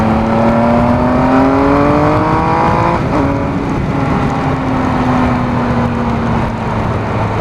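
A Triumph Speed Triple RS motorcycle on twisty summer roads, its engine loud and close, climbing through the revs before a shift around midway, then pulling steadily on over rushing wind.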